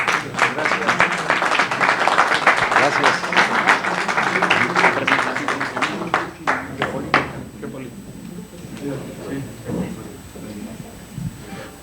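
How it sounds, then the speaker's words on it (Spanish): Warm audience applause welcomes a visiting professor before a geopolitics talk. Dense clapping fills the first half, then thins into scattered individual claps and fades out. "Vamos a recibirlo con un caluroso aplauso."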